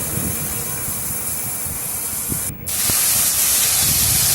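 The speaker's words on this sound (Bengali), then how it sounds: "আমি চার পাঁচটা চেরা কাঁচা লঙ্কা আমি এর মধ্যে দিয়ে দিলাম ভালো করে আমি একটু লাল লাল করে ভেজে নেব" Slit green chillies frying in hot oil in a pan, a loud steady sizzling hiss that briefly dips past the midpoint before resuming fuller, with no talk.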